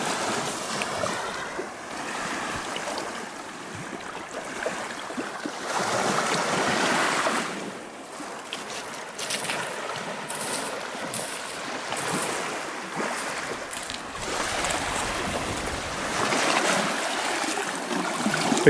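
Wind and waves along a river shore at a park, a steady surging wash and gusting rush that swells and eases, close and fairly loud, with no voices.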